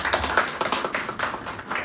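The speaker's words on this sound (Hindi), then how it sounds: "आयशा के लिए तालियां बजा दीजिए।" Audience clapping for Aisha Omar at a meet-up in Barcelona, Spain: a steady wash of moderate, fairly close hand claps running through without pause, no talk on top.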